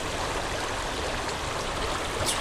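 A creek flows steadily nearby, a close, even rush of water noise with no pauses, heard alone without voices.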